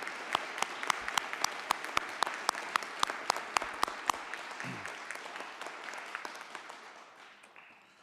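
A small group claps steadily for several seconds at a school board meeting, the sharp hand claps clear and evenly spaced before gradually thinning out.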